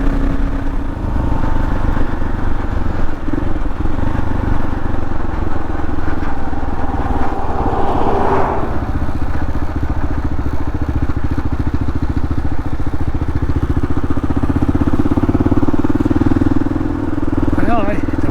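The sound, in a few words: motorcycle riding at speed in winter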